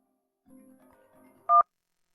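A telephone number is dialed: faint soft tones and clicks lead into one short, loud keypad beep near the end, followed by silence.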